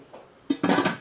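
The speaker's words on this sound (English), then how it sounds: "I'm going to put the lid on it" A metal lid clanks onto a pot of boiling pickles, followed by a short rattle of cookware; brief and close.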